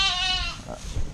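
Lambs bleat during lambing season on a farm, one clear harmonic bleat up front followed by fainter animal calls and low rustling.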